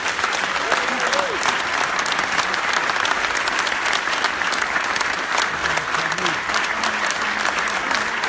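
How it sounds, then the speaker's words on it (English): Sustained applause from a large concert audience, a dense steady clatter of many hands clapping at close range with no pauses. "give them a very big and a very round applause"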